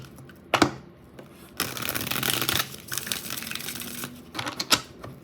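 A deck of tarot cards being shuffled gives quiet, close bursts of riffling and flicking card sounds, several separate rustling runs broken by short pauses.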